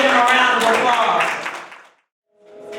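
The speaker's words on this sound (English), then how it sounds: "you all give them a round of applause" Audience applause for a group of dancers at a golf course and conference center ribbon-cutting event, a dense wash of clapping that fades out after about two seconds, followed by a brief tonal sound.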